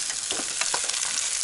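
Meat sizzles steadily as it is reheated in oil in a frying pan at a taiga cabin, a close, continuous crackling fry with small pops and no talking.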